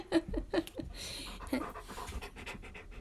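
A dog pants close by in quick, breathy bursts, with faint whimpers and light rustling in a quiet room.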